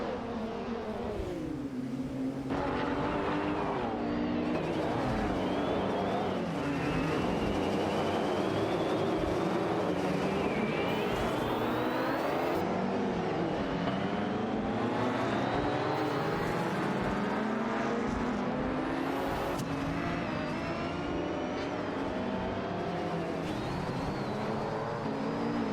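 Race cars roar continuously in a racing video game, among them a Lamborghini Countach LP 5000, with engine tones rising and falling as cars shift and pass, loud and steady throughout with no voices.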